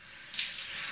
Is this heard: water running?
yes